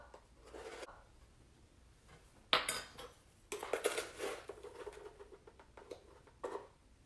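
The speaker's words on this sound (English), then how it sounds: "We are just going to mix this." A utensil clatters and scrapes in a bowl as batter with sugar is mixed for pav bread, quiet irregular clinks and rubbing in bursts with short pauses.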